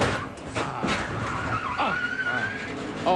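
NASCAR race car skidding into a hard crash, a sustained tire squeal sweeping in pitch over roaring engine and crowd noise, loud and close throughout.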